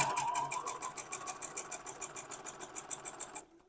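Sewing machine joining 2.5-inch quilt squares, a fast even needle rattle with motor whir running steadily close by, then cutting off abruptly near the end.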